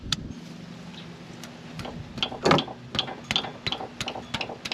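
Ratchet with a 5/8 deep socket on a long extension loosening a bolt during a 2010 Honda Civic tune-up, giving a run of sharp, close clicks in an irregular rhythm with one heavier burst partway through.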